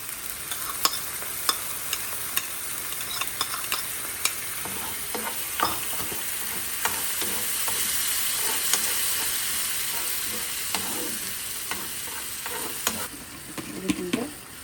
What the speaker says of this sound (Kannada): ಪೇಸ್ಟ್ ಹಾಕ್ತೀನಿ ಟೊಮೊಟೊದು.